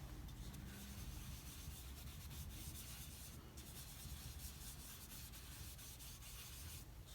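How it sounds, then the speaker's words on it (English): PanPastel color is rubbed off paper with a soft back-and-forth scrubbing, a faint, steady rubbing hiss that continues the whole time with no talking. "I'm gonna rub off some color just so I could go in and blend these spaces."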